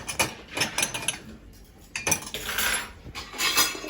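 Clean glasses and cutlery clink and clatter as a dishwasher is emptied, a series of close, bright rattling bursts in an irregular rhythm with short pauses between handfuls.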